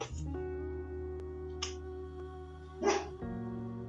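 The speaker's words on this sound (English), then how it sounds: "Hey, Barky girl. Why don't you come over here and say hi?" A dog gives a few short barks or yips, faint and a little distant, over a steady background hum.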